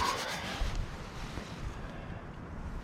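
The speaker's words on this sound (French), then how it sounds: "le vent il s'est levé, puis il vient du nord-nord-ouest" Cold north-northwest wind blowing at a winter bushcraft camp at minus nine degrees, a steady broadband rush buffeting the microphone throughout, with no talking.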